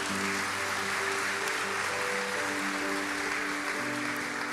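A church congregation applauds during a service, broad clapping washing over sustained organ or keyboard tones that keep playing underneath.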